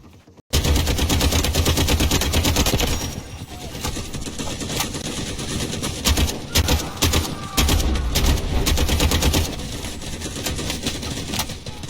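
Gunfire in a Valorant-style shooter, long dense bursts of rapid automatic fire, loud and near, broken by brief pauses between volleys, with no talking.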